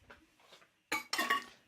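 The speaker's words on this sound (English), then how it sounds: "I need to just keep stirring this" Utensil stirring a pot of chicken Manchow soup with egg and coriander, heard as a few short, close metallic scrapes and clinks in quick succession after a brief quiet moment.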